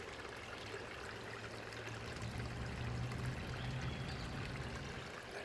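Water pours steadily from a pipe outlet into the top pond of a garden pond system, a continuous rushing trickle with a low hum underneath, close by and unbroken.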